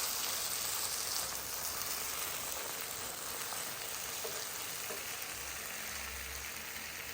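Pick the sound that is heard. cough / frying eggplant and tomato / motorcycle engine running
frying eggplant and tomato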